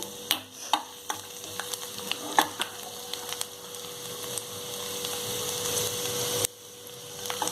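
Finely chopped vegetables frying in oil make a spitting hiss. Sharp clicks and scrapes of stirring come early, then the sizzle swells into a steady crackle before dropping suddenly near the end.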